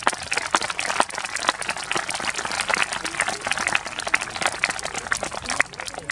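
A crowd applauds at the Arverniales 2019 historical festival, dense continuous clapping that stays loud and fairly close throughout.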